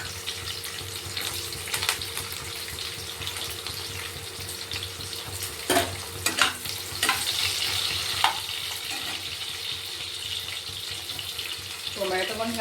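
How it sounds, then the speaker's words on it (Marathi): Chopped onion frying in oil in a pan alongside peanuts and green chilies for Maharashtrian upma, giving a steady, fairly quiet sizzle with a few soft clinks and scrapes near the end. "आता कांदा एका साईडला फ्राय करून घ्यायचा"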